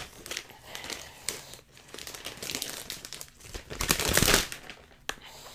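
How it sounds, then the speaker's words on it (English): Shrink-wrap plastic is peeled off a mid-2011 MacBook Air laptop, giving close, continuous crinkling and crackling with a louder tearing burst near the end. "take off the shrink wrap plastic on it here"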